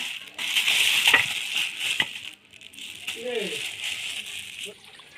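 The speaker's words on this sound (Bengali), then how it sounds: "তো চলো চিকেনটাকে ঢেলে নিই।" Raw chicken pieces are tipped out of a bag at home. A plastic bag rustles and crinkles, soft wet thuds and knocks land as the meat drops, and a short voice sounds near the middle.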